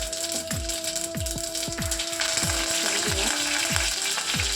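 Mustard seeds and cumin sizzle loudly in hot oil, with a dense, steady frying hiss broken by a regular series of sharp low pops and crackles, roughly two or three each second, close up with no talk.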